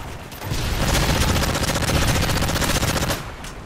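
Rapid automatic gunfire from Call of Duty Modern Warfare 3 multiplayer, a loud, dense burst of shots running for about three seconds with no talking over it.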